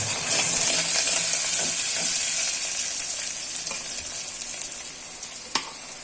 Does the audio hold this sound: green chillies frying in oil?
yes